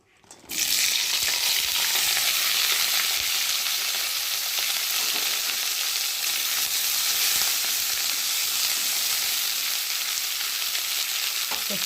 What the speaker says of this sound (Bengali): তেলটা গরম হচ্ছে আর এখন আমি উচ্ছেগুলো ভালো করে ভেজে নেব।